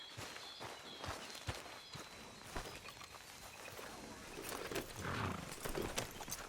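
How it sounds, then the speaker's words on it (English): Steady clip-clop of horse hooves at a walking pace in the video game Red Dead Redemption 2, fairly quiet, with a soft whinny and some faint background sound mixed in. "Grab your horse and let's go."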